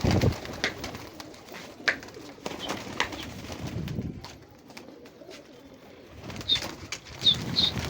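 Domestic pigeons, kept in a loft for kabootarbazi, give low cooing calls and then lift off with flapping wings, amid soft close rustling and a few chirps.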